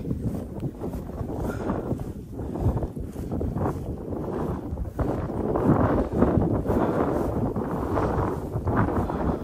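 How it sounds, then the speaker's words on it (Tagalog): Steady wind blowing across the microphone on Glen Dye Moor, a broad rushing roar with gusts that swell and fade, loud and close throughout. "Oh, ang sarap ng hangin, ano?"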